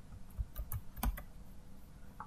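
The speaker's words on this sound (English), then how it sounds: "the minute I start typing" Scattered clicks of keys being typed on a computer keyboard, a few quick taps in irregular bursts, fairly quiet and close.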